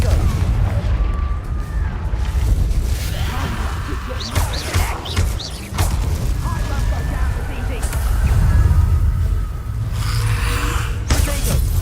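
Rapid spell combat in a Harry Potter video game with a Confringo blasting curse among repeated booming impacts and crackling bursts, dense and continuous, with shouted voices over the clatter.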